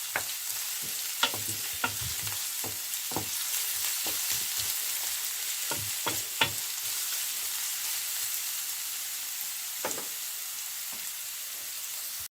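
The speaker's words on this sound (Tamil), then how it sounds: "பாருங்கோ, வெங்காயம் வதங்கி வந்துட்டுது." Onions and dried chili fry in a pan for a fennel-stalk stir-fry, a steady soft sizzle with scattered sharp spatters and occasional scraping stirs, heard alone without talk.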